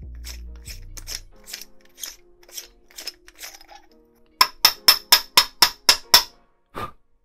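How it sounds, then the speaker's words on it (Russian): Rear shock absorber being unscrewed from a Kugoo M4 Pro electric scooter, heard as a series of close, sharp metallic clicks and taps, ending in a quick run of evenly spaced loud clicks like a ratchet. "Для начала мы его откручиваем."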